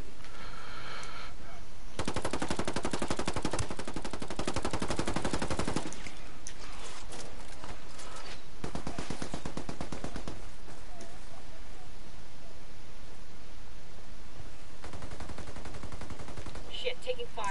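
Sustained automatic gunfire in the video game Ghost War, loud and close, coming in long rattling bursts separated by short lulls, with a voice briefly heard among the shots.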